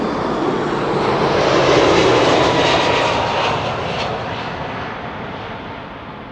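A KLM airliner arriving from Bonaire lands at Amsterdam Schiphol Airport on a sunny day, its loud broadband engine roar swelling to a peak and then slowly fading as the aircraft passes, with no talk over it.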